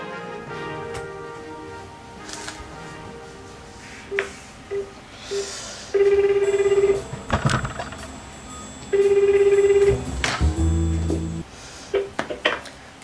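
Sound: telephone call ringing

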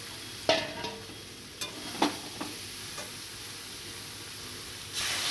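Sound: soybean chunks frying and being stirred in a pan

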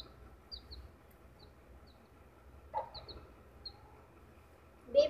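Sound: desi hen clucking

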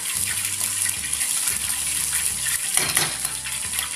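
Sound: garlic and peanuts frying in hot oil for vada pav

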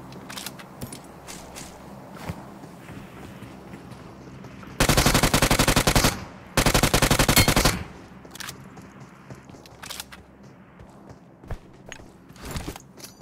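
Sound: gunfire in the video game PUBG Mobile

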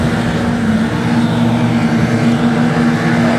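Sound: junior sedan race cars racing at Kingaroy Speedway

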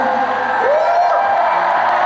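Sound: concert audience applauding and cheering

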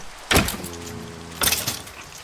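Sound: door closing in Minecraft video game

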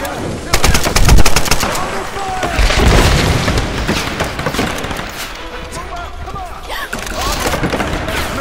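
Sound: gunfire from a gun in the video game Tomb Raider

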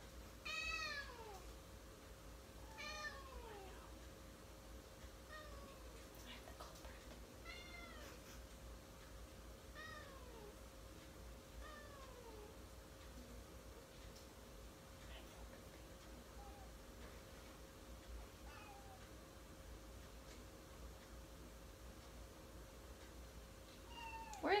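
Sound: cat meowing during rectal temperature check

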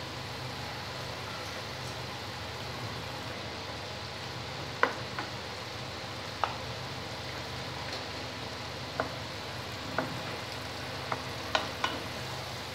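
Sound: fried tangra fish added to boiling radish curry

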